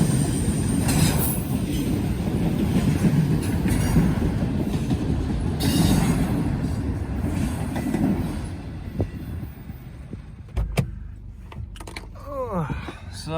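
A CSX freight train rolls past close by during railfanning in Muncie, with a continuous heavy rumble of wagons, clicking wheels, and squealing that rises toward the end as the train passes.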